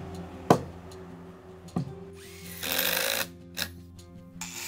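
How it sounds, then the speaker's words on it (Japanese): Disc grinder cutting steel anchor bolts on a wooden woodshed foundation: a loud, dense burst of cutting noise of about a second, between sharp knocks and a brief squeal, close by. "このアンカーをサンダーで切っていきます。"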